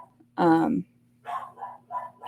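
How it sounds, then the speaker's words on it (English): A single loud, close dog bark sounds early over a low steady hum, followed by a few shorter, quieter sounds that may be further barks or a voice. "I'm sorry if you can hear my dogs in the background."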